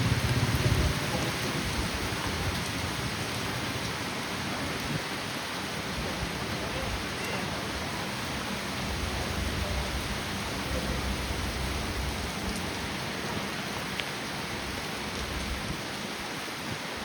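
Heavy rain pours steadily over a hot day with thunder, a dense continuous roar of drops that stays loud and even throughout, with a low rumble underneath and no talking.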